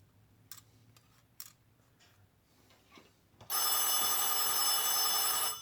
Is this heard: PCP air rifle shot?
no